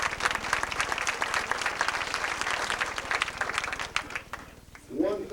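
Banquet crowd at a 1996 high school football awards dinner applauding steadily, a dense wash of many hands clapping at close range, fading near the end as a voice begins.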